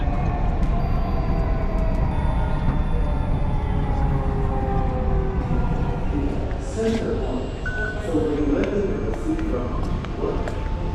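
Dubai Metro train running, a steady loud rumble with rail noise throughout, while a station announcement and other voices sound over it.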